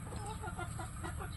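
Chickens clucking on a farm alongside turkeys, several soft overlapping clucks close by over a low steady background hum, no talking.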